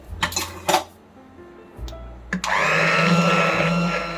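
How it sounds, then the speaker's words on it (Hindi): A few clinks of a pressure cooker and utensil, then a hand blender whirs on loudly and runs steadily, churning thick cooked dal close by. "अब इसमें ब्लेंडर घुमाना है"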